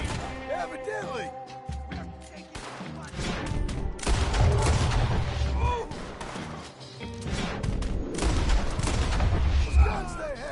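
Rapid gunfire bursts and crashing impacts in the video game Red Dead Redemption 2, loud and dense over several seconds with in-game voices speaking between shots.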